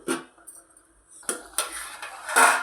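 A spoon scrapes and clinks against a pan while homemade tomato pickle is stirred, several short metallic scrapes and knocks spaced irregularly, fairly close and with no talking.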